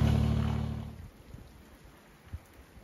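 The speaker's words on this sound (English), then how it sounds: "we're getting a batch of freezing rain now for the next 3-4 hours" Freezing rain falls outdoors with a steady soft patter and a few sharper drops, while a low engine-like rumble fades away over the first second.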